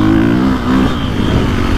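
A KTM 450 Factory Edition dirt bike runs a lap of a motocross track, its engine droning loud and close with fluctuating revs throughout, and no voices over it.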